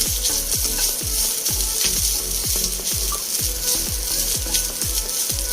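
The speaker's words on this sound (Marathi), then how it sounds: "सुरुवातीला खोबरं, जरासं परतवून घेऊया।" Grated coconut sautéed in a pan, with a steady sizzle under a regular rhythm of spoon strokes scraping and tapping against the pan, close and moderately loud, no talking.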